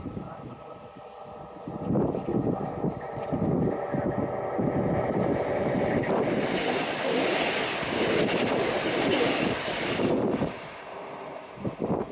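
A train rumbles past nearby on the Teignmouth seawall under steady wind buffeting, a broad roar that builds, holds for several seconds, then eases off.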